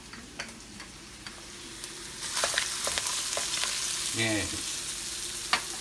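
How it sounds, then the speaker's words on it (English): Steady sizzling and crackling of onions and garlic in a frying pan, with occasional stirring clicks and a single short spoken word near the end. "As you can hear it sizzling."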